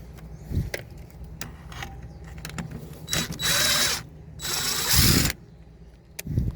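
A 1/4 inch ground screw is backed out on a Trane indoor blower of an X13 package heat pump, short whirring bursts of a power driver with clicks and rattles in between, close by and with no talking.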